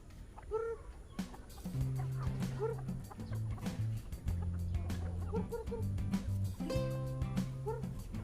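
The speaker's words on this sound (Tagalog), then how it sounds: "Ito po yung ating manok na papadamihin natin yan." Farm chickens clucking and calling in short repeated bursts, with one or two louder crows or squawks standing out, set against a steady low rural hum with no talk.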